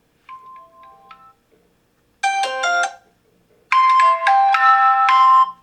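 A Doogee S100 Pro smartphone plays ringtone samples: a soft, sparse chime first, then two brighter melodic phrases of bell-like tones after short silences, clear and close.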